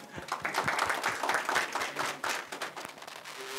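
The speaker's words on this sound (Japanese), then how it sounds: "では拍手" Applause from a small audience at a community meeting on free school lunches, a scattered patter of hand claps that rises and fades over a few seconds at moderate loudness.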